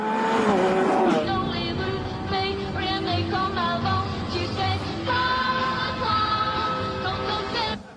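A Lamborghini Aventador LP 700-4, a big heavy carbon-fibre supercar, driven hard around a track, its engine screaming at high revs with quick gear changes and sustained howling acceleration, loud and close throughout.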